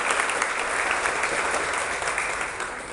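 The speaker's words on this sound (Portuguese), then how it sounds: "Quero também uma salva de palmas para a deputada Rosângela Reis." Steady applause from an audience at a 2016 political rally, a dense even patter of many hands clapping continuously at moderate distance, with no speech over it.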